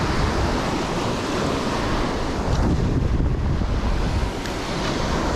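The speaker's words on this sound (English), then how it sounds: "there's a lot of splashing going on." Night surf breaking at the shoreline where bluefish are ambushing bait, a steady broadband wash of waves with wind buffeting the microphone and scattered splashes, no talking.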